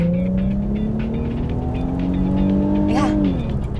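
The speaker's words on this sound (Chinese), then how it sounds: "我坐在车内听到的引擎声" Cabin view of an Infiniti Q50 Silver Sport's 3.0 V6 revving under acceleration, a strong rising engine drone that climbs steadily, then drops sharply at a gear change near the end.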